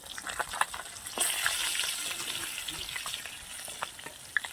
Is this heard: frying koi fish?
yes